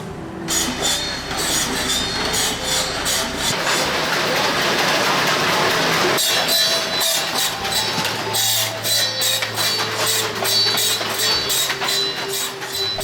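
A loud, continuous grinding and rattling machine cuts bamboo stalks into pieces in a Vietnamese workshop, with repeated clattering bursts and a low mechanical drone joining partway through.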